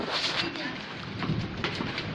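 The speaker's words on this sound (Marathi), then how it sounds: "पाऊस आहे." Steady rain hisses and patters without pause, with faint muffled voices in the background.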